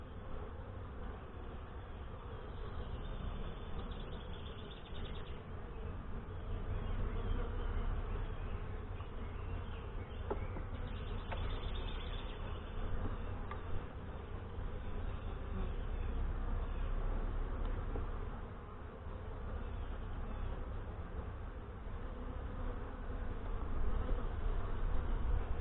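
An open Saskatraz honey bee hive, under inspection in northwest Wisconsin, hums with a dense, continuous swarm buzz close by. It holds a fairly steady level throughout, with no talking.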